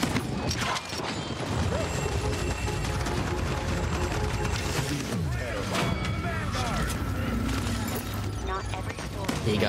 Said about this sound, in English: Big nade damage to the right.